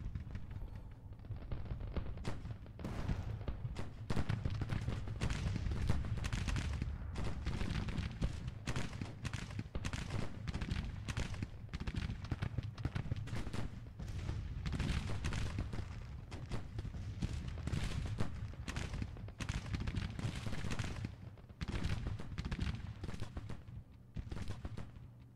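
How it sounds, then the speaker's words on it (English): Williams guns firing in a Grand Tactician: The Civil War battle near a bridge at Argyle Mill, a dense, continuous crackle of gunfire and booms at a distance. "The Williams guns in place. Firing away."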